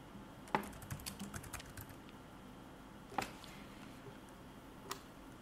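Typing on a computer keyboard, quiet and close, with clusters of soft key clicks and a few louder isolated taps spread over a few seconds, with no voices.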